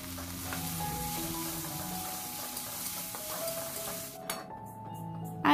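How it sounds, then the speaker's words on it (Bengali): Cumin seeds fry in a pan with a steady, moderate sizzle and occasional light stirring, ending in a few clinks of a utensil against the pan. "তো এই কারণে একটু জিরে ভেজে নিলাম"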